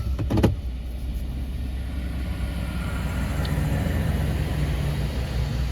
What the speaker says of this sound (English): Pretty long tractor trailer, holy crap.